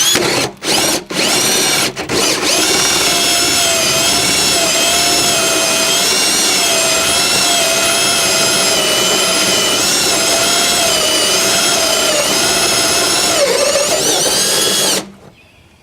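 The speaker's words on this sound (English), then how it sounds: "To drill this hole, I'm going to use a 2 1/4 inch hole saw" A power drill with a 2 1/4 inch hole saw cuts into a plastic barrel, whining steadily for about twelve seconds after a few short starts, loud and close, then stops abruptly.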